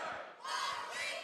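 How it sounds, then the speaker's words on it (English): A high school basketball crowd cheers and shouts in a loud, rising burst as the Kaiser cheerleaders try to fire them up, filling a gym with raucous voices. "Kaiser cheerleaders doing the best they can to go through and get the crowd kind of pumped up here"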